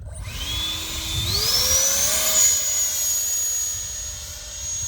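A Sapac Eurofighter 64mm electric ducted fan model jet spools up for a hand launch, its steady high whine rising in pitch in two steps and then holding loud and close, with a broad rushing air noise beneath.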